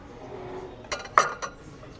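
Ceramic plates and dishes on a shop shelf clink together in three short bright knocks over a quiet room background, close by.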